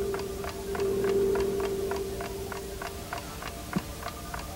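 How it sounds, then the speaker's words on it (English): A clock ticks steadily and quickly, heard through the hollow of an umbrella, with a sustained hum running underneath and a single soft knock near the end. "That's why you can hear the ticking again."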